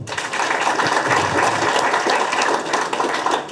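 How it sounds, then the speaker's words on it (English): Audience applause for a new chamber team at an AI and digital innovation industry event, a dense steady clapping that fills the room for several seconds. "Makofi kwao."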